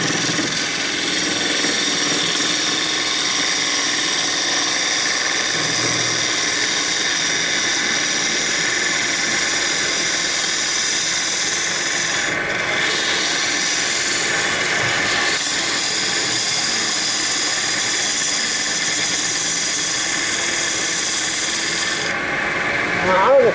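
A wood lathe spinning an Indian rosewood bowl at 1500 RPM while a turning tool is pressed hard into the wood, giving a loud, constant high-pitched scraping whine with a few brief dips, close and continuous throughout.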